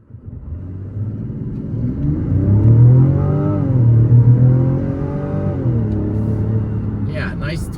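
A 2025 Mazda CX-90 with an eight-speed automatic pulls away from a stop, its engine rising in a steady, moderately loud climb and then easing off. A person talks over part of it.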